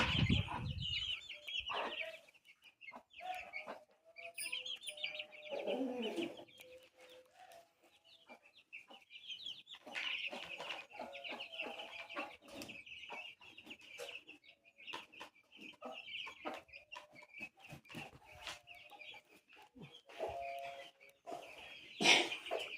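Hens and small chicks cluck and cheep steadily on a poultry farm with a breeding section, the high peeping of many chicks running continuously under intermittent lower clucks nearby.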